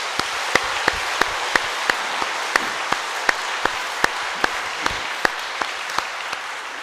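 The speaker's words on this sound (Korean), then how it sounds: "우리 하나님께 영광의 박수를 올려드리겠습니다." A church congregation claps in unison, steady rhythmic beats over a continuous wash of applause, held at an even level throughout.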